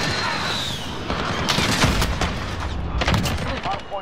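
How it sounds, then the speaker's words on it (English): Rapid bursts of gunfire in a Star Wars shooter game, sharp cracking shots in clusters over a busy battle din, close and loud, with someone talking over the action. "he's using a shotgun now"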